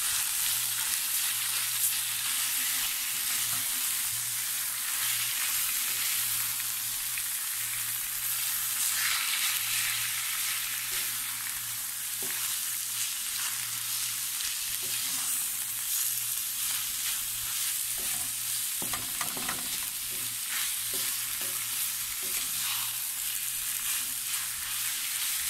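Carrot and cabbage stir-frying on high flame for chilli garlic Hakka noodles, a loud, unbroken sizzle throughout with occasional faint scrapes of stirring.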